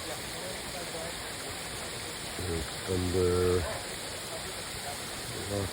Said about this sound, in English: A little baby waterfall.